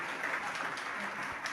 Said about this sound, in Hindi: हमने कहा आप लोग तालियां बजाओ